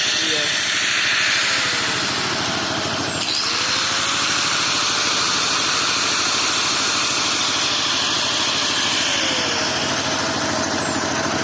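A homemade three-phase generator driven by a 2.8 kW walk-behind tractor engine runs steadily and loudly, a constant mechanical drone filling the whole clip with no letup.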